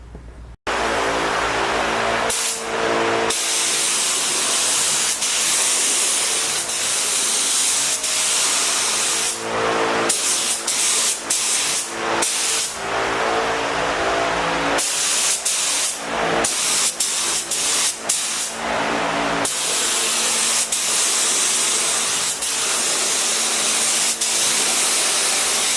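A spray gun lays down a first coat of Tamco clear coat paint, producing a steady, loud, close hiss that runs in long continuous passes broken by brief pauses between strokes, with no talking.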